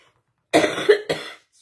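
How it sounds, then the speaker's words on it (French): A woman with a sore throat coughs twice in quick succession, a harsh close burst then a shorter second cough, surrounded by silence. "J'ai très mal à la gorge, donc je risque de tousser un peu pendant cette vidéo."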